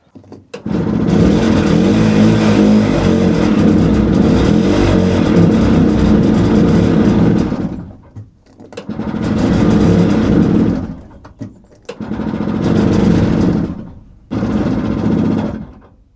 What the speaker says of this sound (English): I wonder if it just ran on the brake cleaner fumes I put in there